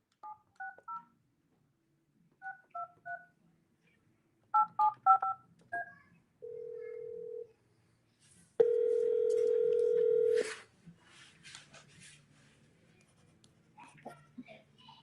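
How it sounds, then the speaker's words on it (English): Phone keypad tones beep in short bursts as a number is dialed, followed by a steady dial tone and then a longer ringback tone, clear and close with faint handling noise between. "All right, Anthony, I'm going to give you a call"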